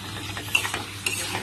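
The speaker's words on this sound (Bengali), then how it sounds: "এবার আমি দিয়ে দেবো চিকেনগুলো দিয়ে 4 মিনিট মতন আমি কষিয়ে নেব।" Chicken pieces stir-fried in a pan after the tomatoes have melted down, with a spatula scraping and tossing in a few sharp strokes over a soft, steady sizzle, close and moderately loud with no talking.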